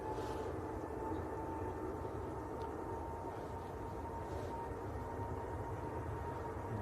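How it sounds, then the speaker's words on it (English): Brussels Airlines airliner rolling at Manchester Airport, a distant steady jet roar with a broad even rumble lasting throughout, faint and unbroken with no talk. "Brussels Airlines has pushed in and is rolling."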